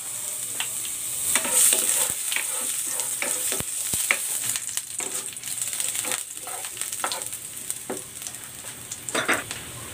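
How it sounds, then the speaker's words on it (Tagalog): Ginger sautéing in hot cooking oil for braised chicken legs, a steady close sizzle and crackle with scattered spatula stirring and scraping throughout, no talk. "Igigisa ko na tong luya."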